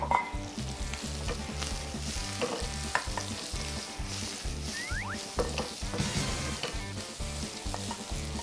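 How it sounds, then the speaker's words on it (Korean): Ginger, onion and the remaining vegetables stir-fry in about two tablespoons of oil in a wok for ramen-based jjamppong, a loud, steady close sizzle broken by rhythmic scraping and stirring. "양파를 살짝 볶아주세요"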